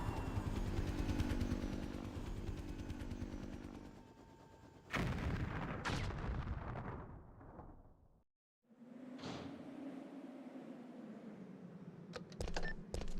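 Missile explosion in Resident Evil 3 Nemesis on Dreamcast: a loud roaring blast with rumbling debris, a brief silent gap, then a lower droning after-rumble and sharp crackles, no voices.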